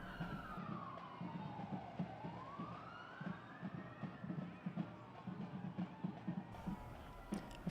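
A police car siren wails with rising and falling pitch sweeps at a Christmas parade, sounding over a busy background of crowd noise and rhythmic thumping.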